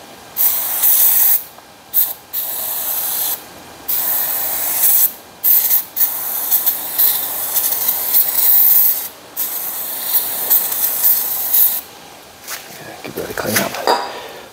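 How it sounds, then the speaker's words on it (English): Bursts of hissing aerosol spray come in a series of short and longer blasts, close and loud, ending with some handling noise. "I'll give this a bit of a spray as well."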